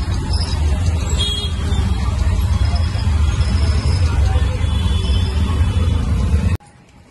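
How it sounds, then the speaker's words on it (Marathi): Road traffic in Bhandup, a continuous close rumble of passing vehicles with low engine drone and scattered higher noise, which stops abruptly near the end. "Traffic भांडूपची traffic."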